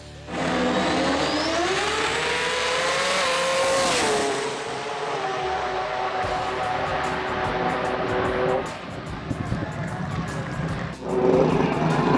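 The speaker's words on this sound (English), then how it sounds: "Jay Sadek was on a mission in the RX3 and took the win." A Mazda RX3 drag race car accelerates hard at a sports compact drag racing event, its engine note rising steadily and loudly before easing, then a second burst of revving near the end, with crowd and ambient noise around it.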